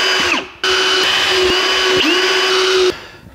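A power drill bores through a yellow taxi toplight, its motor whining steadily and loud with a brief stop near the start and a speed change midway before cutting off, no talk.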